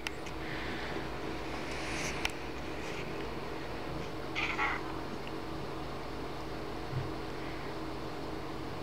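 A house cat meows a few times at a moderate distance, short separate cries over a quiet indoor room hum, alone with no talking.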